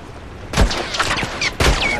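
A hunting rifle shot in The Last of Us multiplayer, a loud close crack followed by a second report and bolt-action handling, short and punchy with no talk.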